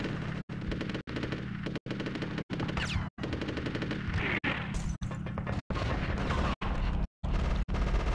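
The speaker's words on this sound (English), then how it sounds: "Is there anybody shooting at us?" Rapid, loud game gunfire during the tank stage of Conker's Bad Fur Day: a continuous dense barrage of automatic shots and booms, cut by brief silent gaps, with no talk.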